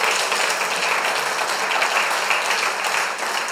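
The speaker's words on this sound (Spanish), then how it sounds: "Démosle un aplauso al Señor." Congregation in a church applauding: dense, sustained clapping from a large crowd, steady and loud throughout with no talk.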